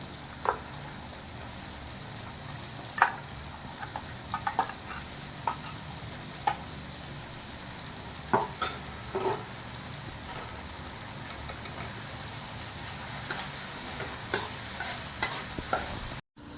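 Tomato and ginger-garlic paste sautéing in a pan, a steady close sizzle with scattered scraping stir clicks throughout, no voices.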